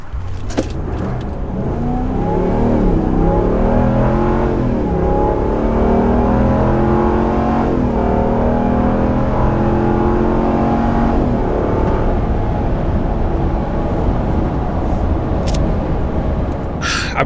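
A Ram 1500 Rebel pickup with a 5.7-litre V8 and 8-speed automatic accelerates hard, engine note climbing through several rising gear pulls, loud and close from inside the cab, with no talk.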